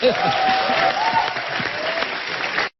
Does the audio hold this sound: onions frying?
no